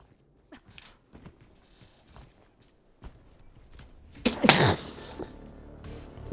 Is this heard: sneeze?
yes